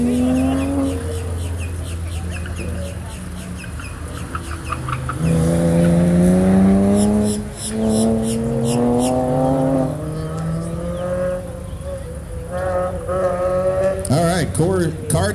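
A race car works through an autocross course at a Central Florida SCCA event, its engine revving and shifting in rising tones from fairly close by, with an announcer talking over it.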